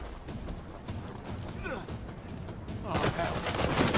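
In the video game Uncharted 4, rapid bursts of gunfire rattle with rising intensity, repeated shots crackling under game voices and ending in a louder, denser volley.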